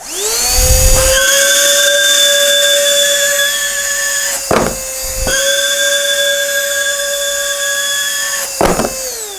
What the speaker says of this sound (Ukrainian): І зараз за допомогою сили всмоктування цього виробу ми спробуємо підняти коробку в повітря.